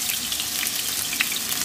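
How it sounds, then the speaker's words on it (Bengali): Potatoes fry in hot mustard oil in a pan for a Bengali shukto, giving a steady, close crackling sizzle with small sharp pops throughout. "আলুগুলো আমি লাল লাল করে ভেজে নেব।"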